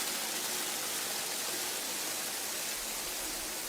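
A waterfall gives a steady, loud, broadband rush of falling water that stays unchanged throughout, with no other sounds.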